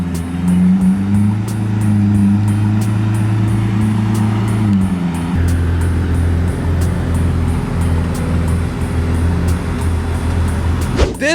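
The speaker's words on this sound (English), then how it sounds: "My poor little Beamer's on. It's got a crazy misfire." A BMW 335i single-turbo engine idles with a crazy misfire, a rough, uneven low rumble heard up close with a periodic stumble and a small shift in pitch partway through, ending on a brief clatter.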